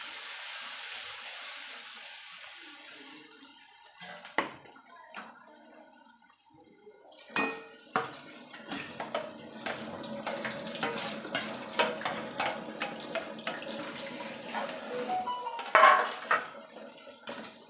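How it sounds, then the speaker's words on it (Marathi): A Maharashtrian dry zunka of fried onion and gram flour is stirred steadily in a pan. A spoon scrapes and clinks against the metal in an irregular rhythm over a soft, continuous sizzle, close up, with no talking. "आता एकसारखं आपल्याला हे हलवत राहायचं आहे।"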